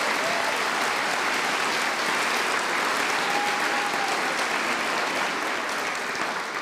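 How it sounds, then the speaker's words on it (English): A large audience at a high school senior assembly gives a loud, dense, continuous round of applause that holds at full strength for several seconds, tapering only slightly at the end. "Let's give them one more round of applause."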